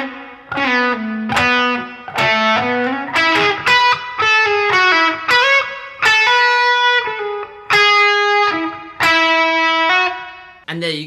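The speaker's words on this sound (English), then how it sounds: "Now what we can do is play section 1, 2 and 3 back to back to complete the whole lick" Solo electric guitar running through a full major 7 lick, a series of bright, close phrases of bent and sliding sustained notes separated by short gaps, played loud with no talking over it.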